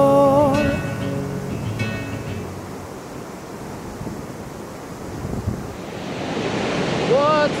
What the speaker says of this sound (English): This waterfall is incredible. I've never seen such a huge waterfall with where the water flows down with so much power.